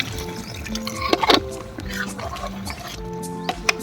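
Water pours into a pot of spiced mutton for Afghani Kabuli pulao, a close liquid splashing and sizzling with clinks of a spoon or utensil, under a person talking.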